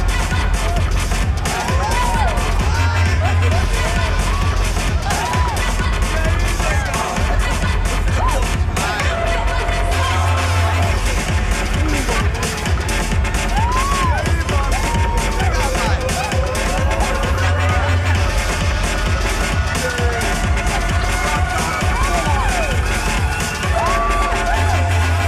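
A dense crowd at a fashion week event in the shooter game Max Payne 3 murmurs and whoops without pause, a steady loud wash of many voices with occasional cheers and thuds, while characters talk over it.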